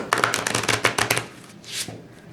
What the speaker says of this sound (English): the cards that I'm shuffling right now